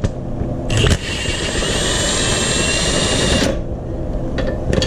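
A pneumatic impact gun drives out a starter bolt on a Honda Odyssey, a loud sustained whirring burst of about three seconds between brief clanks, with steady shop noise underneath.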